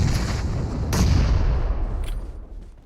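Explosions in the PUBG Mobile battle royale game, with heavy booming blasts rumbling close and loud, a sharp report near the start and another distant crack before the sound fades.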